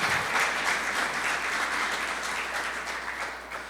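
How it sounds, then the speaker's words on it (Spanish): Congregation applause at a church sermon, a dense steady wash of many hands clapping that starts at once and slowly thins toward the end, with no talking over it. "démosle un aplauso a Dios porque ese Hijo Jesucristo vino por nosotros"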